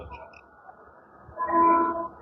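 A train pulls out of Virudhunagar Junction, a low rumble of wheels and carriages building into a louder swell in the last second with a sustained horn-like tone, heard from on board.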